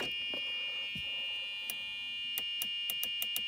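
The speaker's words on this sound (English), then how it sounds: "you'll have to listen to a buzzer" A petrol golf cart that won't start sounds a steady, continuous electronic buzzer tone throughout. Sharp clicks from the mechanism sound over it, faster toward the end.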